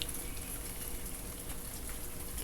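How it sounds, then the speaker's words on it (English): Steady morning rain falls in a continuous, even hiss, with soft patter throughout and no voices. "You hear the rain and the birds?"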